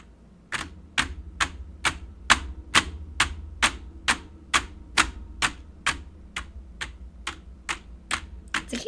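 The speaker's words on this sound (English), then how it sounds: "Can you hear the keyboard?" Computer keyboard being typed on, about seventeen sharp, evenly spaced keystrokes close up over a low steady background hum, with no talking.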